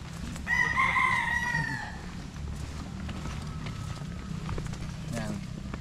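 A rooster crows once clearly nearby, followed by low outdoor background noise and faint scattered sounds.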